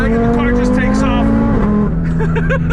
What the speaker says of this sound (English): Dropping down to third. Some rolling anti-lag, and the car just takes off.